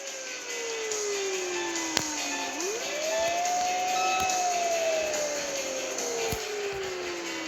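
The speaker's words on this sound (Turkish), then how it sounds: "İtfaiye aracım." A video game fire engine's wailing siren sweeps down and then rises again, loud and steady over a background engine hum, with no talking.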